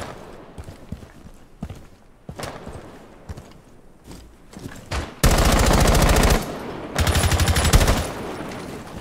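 Automatic gunfire in Rainbow Six Siege on the Fortress map, starting with scattered footsteps and light clatter, then two loud, close sustained bursts of rapid fire with a short pause between them.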